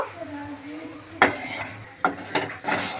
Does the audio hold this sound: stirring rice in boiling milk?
yes